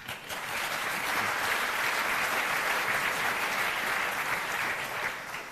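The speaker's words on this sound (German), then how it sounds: "Applaus." Warm, even applause from a live audience at an event, dense clapping swelling in after a brief start and holding steady before easing off at the end.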